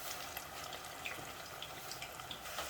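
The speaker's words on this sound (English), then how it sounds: "let this fry for about 5 minutes" Potato peels frying in oil, a faint, steady bubbling sizzle with small scattered pops and crackles, alone with no talking.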